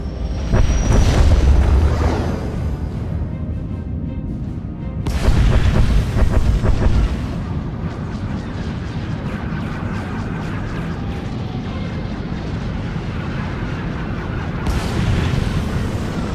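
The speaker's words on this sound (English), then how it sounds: "Proceeding with bombardment, targeting infrastructure and industrial objectives only." Space bombardment in Star Wars: The Old Republic rumbles as loud, sustained booming explosions, with heavy blasts near the start, again around the middle and toward the end over a continuous low roar.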